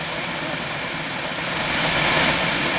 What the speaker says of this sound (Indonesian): pesawat dengan nomor penerbangan PKLMJ Wings 88858 ini akhirnya bisa mendarat dengan mulus